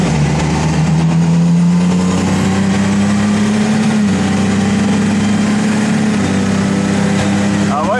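A Can-Am Maverick R off-road vehicle with a 240 hp engine drives loudly, a steady, droning engine roar that holds at high pitch, rising slightly, heard close and continuous from inside the vehicle.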